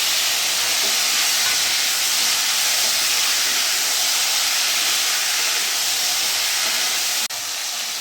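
Raw green banana and potato pieces hit hot oil seasoned with fried cumin, bay leaf and dried chilli, giving a loud, steady, close sizzle that holds evenly throughout before a brief dip at the end.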